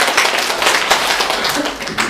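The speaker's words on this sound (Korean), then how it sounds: "박수를 치시면 되는데" A church congregation at a Sunday service applauds with steady, dense hand clapping that stays even and fairly close for the whole short stretch.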